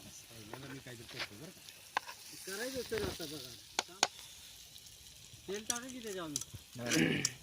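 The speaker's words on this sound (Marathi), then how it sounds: "अशा तऱ्हेने आता आपले फिश पण झालेले आहेत फ्राय करून" Fish shallow frying in oil at an outdoor group fish party in a forest, a constant moderate sizzle running beneath several people chatting and exclaiming nearby.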